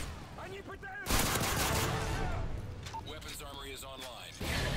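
Gunfire in the video game Call of Duty Modern Warfare 3, a loud burst of rapid automatic shots with game effects, while a player talks over it.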